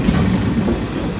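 A JR West Wadamisaki Line train runs on its rails, loud and close, with a steady rumble and rhythmic wheel clatter and no voices over it.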